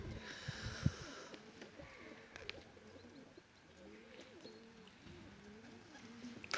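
Pigeons cooing in a garden, soft repeated low coos that rise and fall throughout, with faint ambient background and a few brief knocks near the start.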